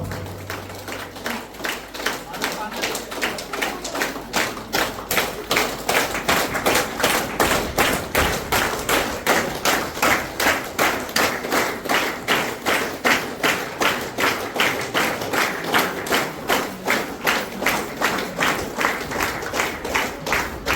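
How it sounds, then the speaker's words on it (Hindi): A single person in a conference hall claps hard and fast, a long run of sharp, evenly spaced claps that stays loud and regular from start to finish. "मैं फुल ताली बजाकर दिखाता हूँ आप लोग को"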